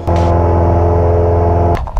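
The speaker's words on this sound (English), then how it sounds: "that is the sound of me putting the throttle in again because I had to go around again" A small airplane engine drones loudly and steadily as the throttle comes up for a go-around, then the roar cuts off abruptly near the end.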